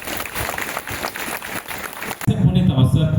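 An audience claps in a church during a celebration service, a dense spread of applause that grows fuller and louder toward the end of the short stretch.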